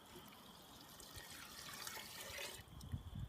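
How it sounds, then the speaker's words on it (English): Water poured into a pot of concentrated wild turkey broth, a soft, steady liquid trickle and splash that swells slightly toward the end, heard up close and alone. "we can add another 4 cups of water here."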